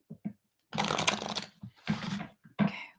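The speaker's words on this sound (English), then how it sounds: "Okay, one more shuffle." Tarot cards being riffled and shuffled in several quick bursts, close and crisp, with short pauses between each shuffle.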